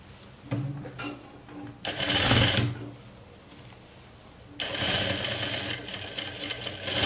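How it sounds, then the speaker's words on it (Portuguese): Domestic sewing machine stitching a seam on a jumpsuit, running in two bursts of steady mechanical whirring, a short run early and a longer stretch toward the end, with quieter handling noise between. "Aí a gente costura."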